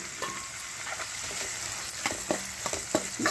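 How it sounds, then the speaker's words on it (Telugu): Onions sizzle in oil with a pinch of asafoetida for an amaranth and green pea curry, a steady close fry broken by soft scraping clicks of stirring toward the end. "ఉల్లిపాయలు వేగుతూ కొంచెం వేగాలి, ట్రాన్స్పరెంట్ అవ్వాలి."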